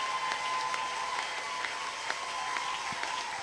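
Congregation at a church seminar applauding steadily, a sustained wash of clapping at moderate distance with a faint tonal hum running through it.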